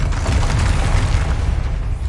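A spell cast in the Hogwarts Legacy video game on PS5 lands as a dense, steady boom with a heavy low rumble and rough hiss, loud and sustained for about two seconds with no talking.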